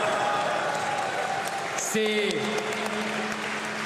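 Applause and crowd noise at a political rally, a steady bed of clapping under a speaker's voice, with a brief tonal burst partway through.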